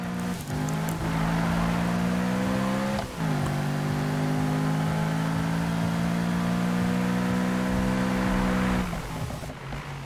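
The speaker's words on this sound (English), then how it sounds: "the backfire on that sounds amazing" A BMW M3 E92 revving hard in the Need for Speed racing game, a loud steady engine drone with a brief dip and pitch rise near three seconds, ending with a short crackle as the engine note falls away.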